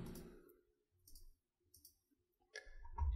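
A few crisp, quiet clicks in quick succession, like a mouse button, separated by short silences.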